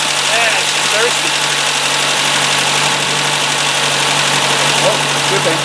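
Steady, loud idle of a 1978 Toyota Corolla engine freshly converted to EFI, a constant mid-pitched hum with faint vibration running unbroken throughout, while people talk close by over it.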